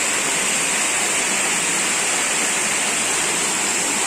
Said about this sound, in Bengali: দেখুন কি সুন্দর জলটা নামছে, কত দূর থেকে জলটা নামছে।